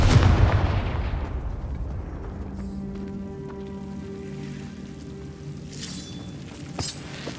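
A fire spell blasts in Hogwarts Legacy: a loud, sudden explosion opens the moment, then its crackling rumble fades into quieter magical tones and a faint later burst.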